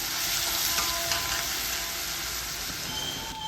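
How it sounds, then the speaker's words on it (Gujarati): Garlic and ginger paste sizzles steadily in hot oil with mustard seeds and asafoetida, a loud continuous frying hiss with faint crackles, close by and without talk, while an okra and onion dish is prepared. "બે ટેબલ સ્પૂન જેટલું આપણે લસણ એડ કરીશું લસણ અને આદુની પેસ્ટ આપણે એડ કરી દીધી છે"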